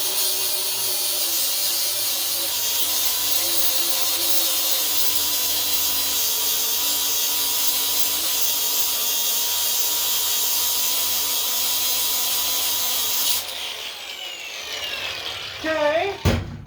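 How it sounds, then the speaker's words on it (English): A power tool grinds steadily at a stubborn bolt on a bent component, a loud sustained whine that holds for several seconds before cutting off, followed by brief clattering and handling noises. "Try to sand this down, see if it drops through."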